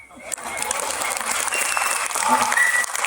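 Audience clapping at a Tamil comedy speech event in Delhi, a steady, dense wash of applause that swells and holds through the whole stretch, close and moderately loud.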